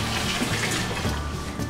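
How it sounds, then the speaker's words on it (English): Water runs steadily from a tap, a continuous close, fairly loud rushing splash with no break and no voices. "Is that the sound of running water?"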